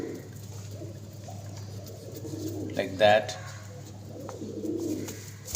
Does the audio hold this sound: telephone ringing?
no